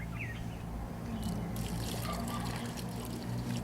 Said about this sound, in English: And then this is what's poured in.